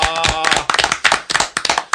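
Several people clap in short bursts to welcome a guest on a Korean talk show, with crisp, close-up hand claps coming in uneven waves rather than a continuous ovation.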